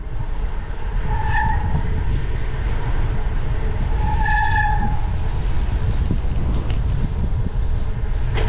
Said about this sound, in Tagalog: Ingay ng preno ko.